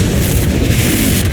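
A Confringo spell blast in the Hogwarts Legacy video game lands as a loud, dense, low rumbling boom that fills the whole moment with heavy explosive energy.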